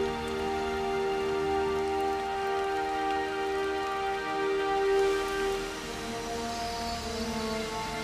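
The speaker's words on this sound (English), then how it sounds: "This nourishing rain quenches the desert's deepest thirst." Steady winter rain falls on the Death Valley desert, a continuous even patter with a faint tonal hum running underneath throughout.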